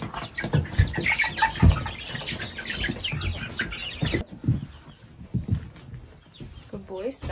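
Chickens cluck and chirp close by on a small homestead with goats, brief bird calls scattered under steady nearby talk, with a dog also about.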